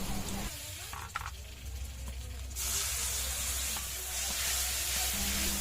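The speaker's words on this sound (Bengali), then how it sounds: "পেঁয়াজটা ভাজা হয়ে গেলে ওর মধ্যে দিয়ে দেব 1 চামচ চিনি আর গোটা লঙ্কা বাটা" Ground onion and tomato paste frying in oil in a pan, a moderate sizzle with a hiss that swells louder midway, accompanied by faint stirring.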